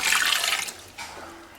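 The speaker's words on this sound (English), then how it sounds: "then I put about a cup of water" About a cup of water is poured into a food steamer holding potatoes, a brief hissing splash that cuts off, leaving a faint trickle afterward.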